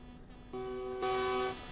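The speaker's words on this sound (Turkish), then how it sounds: "Asma kornaya be." A truck horn in Euro Truck Simulator 2 sounds in two short overlapping blasts, rising to a brighter second tone before fading, quiet and somewhat distant.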